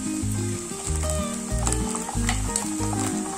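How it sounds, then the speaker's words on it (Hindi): Onions sautéing with ginger garlic paste in a pan give a steady close sizzle and fry, with a rhythmic scraping stir of a spoon against the pan throughout, without talk. "प्याज का कलर चेंज होने तक हम इसे सॉटे करेंगे अदरक लहसुन का पेस्ट भी डाल देंगे"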